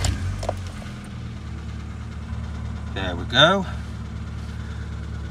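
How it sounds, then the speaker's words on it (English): A Rover K Series engine idles steadily after a throttle position sensor replacement, a low continuous hum running throughout at moderate level, with a brief voice speaking partway through. "It's idling a lot more stably"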